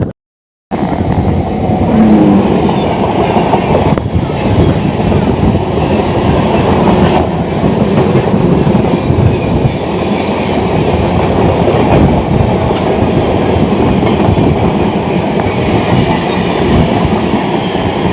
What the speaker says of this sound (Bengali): এটা হচ্ছে মুম্বাই হাওড়া জ্ঞানেশ্বরী এক্সপ্রেস